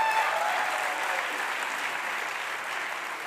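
A convocation audience claps in a dense, even burst that holds steady and fades slightly toward the end, with no voices over it.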